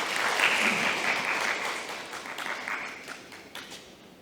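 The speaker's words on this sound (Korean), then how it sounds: "큰 박수 다시 한번 부탁드립니다" Audience applause at a Seoul public forum on bulky and electronic waste, a dense wash of clapping that starts full and gradually thins and fades over about four seconds.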